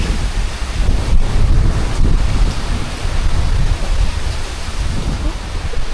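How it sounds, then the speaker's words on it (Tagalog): Strong typhoon Opong surf and wind batter an island shore: a steady, loud roar of crashing waves and gusting wind buffeting the microphone, continuous throughout with no talk. "Lalong nagputi-puti ang mga alon, lalong lumakas."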